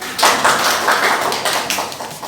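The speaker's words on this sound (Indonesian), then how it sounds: "Tepuk tangan dulu Siti." Students in a vocational school classroom clap briefly for a classmate, a dense patter of hand claps for about two seconds with no talk over it.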